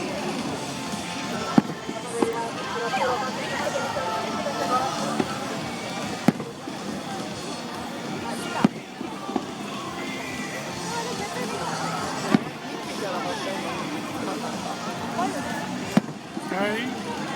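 Fireworks at the 2011 Toride fireworks festival in Japan: repeated sharp bursts at intervals over continuous crowd babble and nearby chatter.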